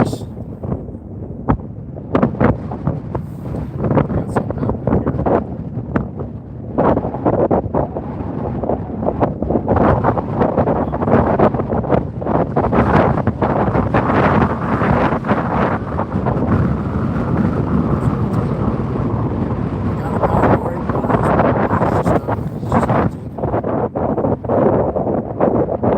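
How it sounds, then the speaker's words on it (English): Strong wind buffets the microphone out on an open frozen lake during ice fishing, a loud continuous roar with gusty surges and rumbling low thumps, no voices. "It's kind of windy."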